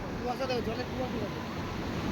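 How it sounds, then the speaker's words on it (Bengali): Sea waves rolling in at high tide on a foggy early morning beach, a continuous low roar of surf with wind buffeting the microphone. "কত উঁচু হয়ে ঢেউ ঢেউটা আসছে দেখো"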